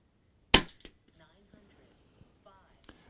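An air gun fires one sharp, loud shot over an FX Radar chronograph, followed quickly by a second smaller impact and then faint scattered ticks and a brief quiet voice-like tone.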